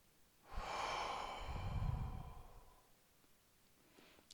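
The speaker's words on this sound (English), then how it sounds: "Nice deep breath in." One deep breath in followed by a long, slow breathy exhale, close and soft, swelling over about two seconds and fading away in a quiet room.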